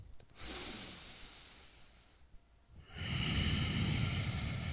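Slow, deep breathing during a yoga session: a long airy inhale-like rush, a quieter pause, then a louder sustained breathy exhale, close and steady with no talking.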